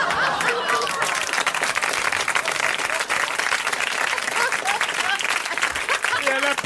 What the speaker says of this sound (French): Et elle applaudit.